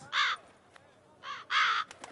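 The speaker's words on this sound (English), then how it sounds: "Right, no, ravens." Ravens in The Witcher 3 give two harsh, loud caws close by, with a short pause between them and no talk over them.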